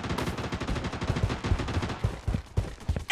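Rapid bursts of automatic gunfire in the shooter Project Bloodstrike, loud and close, with punchy shots in an uneven rhythm and no talk.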